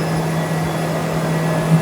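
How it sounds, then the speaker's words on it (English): Paper machine at a paper mill, a steady broadband industrial roar with a constant low hum running beneath it, unbroken and loud with no voices. "That's not just the sound of making paper."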